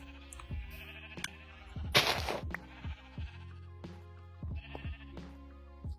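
Sheep bleat repeatedly on a farm, a string of short wavering calls from several animals at varied distances, with one loud, harsh bleat standing out near the middle.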